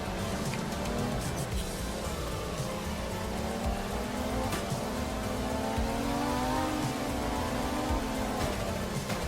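Steady rain hissing across a winding racing track in a video game, a dense, continuous wash of drops layered over a droning car engine whose pitch slowly rises and falls, with no talk.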